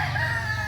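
A rooster crows in a brief, loud, sustained call close by, from a tethered cockerel kept on a short cord in a small backyard poultry setup.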